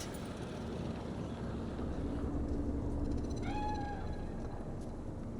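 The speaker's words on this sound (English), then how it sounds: "Do you see it? The cat." A cat in the Cyberpunk 2077 video game lets out a single short, rising-then-falling meow partway through, heard over a steady, low rumbling city ambience with no speech.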